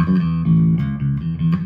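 Electric bass notes played in a steady, moving line, warm and low, with a slightly processed tone and no voices.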